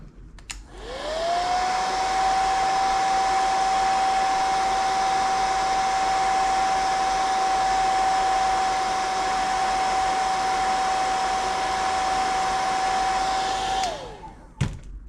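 A hair dryer runs in one steady, loud drone with a high whine for about thirteen seconds, used while painting a crankbait lure, spinning up at the start and winding down before a click at the end.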